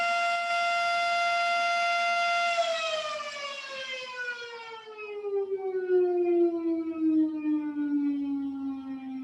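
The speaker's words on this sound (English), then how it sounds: "Be with the beingness of fire sirens." A long, wailing fire siren holds a steady tone, then slowly slides down in pitch, sounding from a distance across open air.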